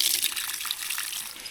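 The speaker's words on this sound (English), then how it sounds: "I can choose between the water that's coming from down the roof into this water" Rainwater runs down a bothy roof into a water supply in the Scottish Highlands, giving a steady, close hiss of flowing and splashing water throughout, with no voices.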